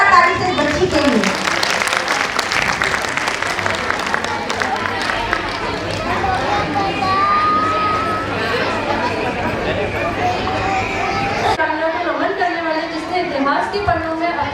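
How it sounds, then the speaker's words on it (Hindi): Loud, sustained applause and cheering from an audience at a school annual function, honoring a young girl's acting performance, with crowd chatter mixed throughout. "बहुत ही शानदार अभिनय पर जोरदार ताली से इस बच्ची के लिए"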